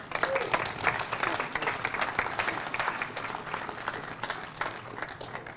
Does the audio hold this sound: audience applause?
yes